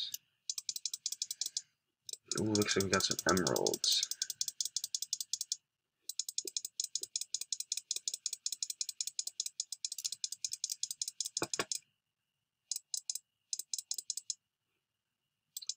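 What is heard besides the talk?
computer mouse clicking while playing video game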